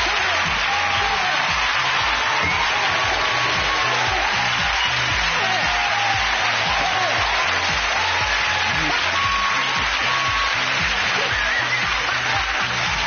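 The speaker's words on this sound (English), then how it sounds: "Give him a round of applause." Studio audience at Ant and Dec's Saturday Night Takeaway, sustained loud applause with dense clapping that carries evenly throughout, with voices now and then over the top.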